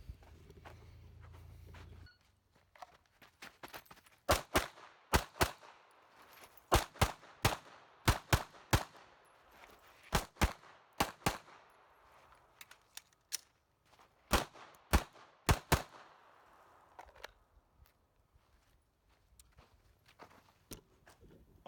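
Repeated Glock 19 pistol shots fired during a timed shooting drill, sharp loud reports in quick irregular bursts with short pauses between strings, no talking.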